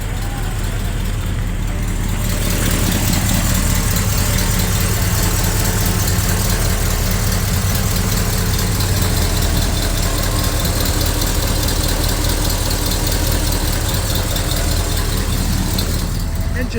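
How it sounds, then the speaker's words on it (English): A 1971 Chevy C20 Custom 4x4 long-box truck engine idles steadily and close, with a slight exhaust leak adding a faint muttering to the continuous rumble. "Engine sounds pretty good, doesn't it?"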